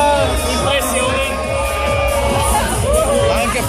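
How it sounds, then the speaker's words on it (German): Spectators at the Semmering hill-climb race, a dense crowd babble with cheering and shouts, loud and continuous throughout. "vielleicht noch ein paar Zuschauer-Impressionen"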